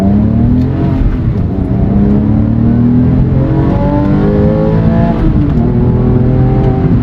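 A Porsche 997 911 Carrera S with naturally aspirated engine and sport exhaust revs hard through the upper range, its loud rising howl climbing in pitch with brief shifts between pulls, heard from close and steady throughout.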